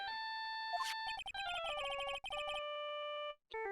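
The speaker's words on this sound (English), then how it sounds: "I bet it was this ringtone that caused it." A phone ringtone in a mystery video game: a quick run of bright electronic notes stepping down in pitch, then sustained tones that end abruptly, with a short blip after and no talk.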